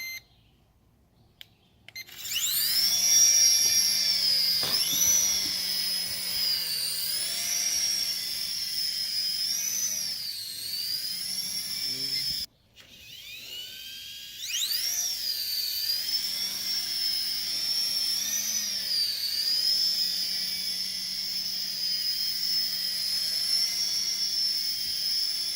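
A DeeRC Apache RC toy helicopter spins up for a one-button takeoff, its small rotors and motor producing a high, whining buzz that rises, wavers in pitch, cuts out briefly and resumes, close and steady with no talk.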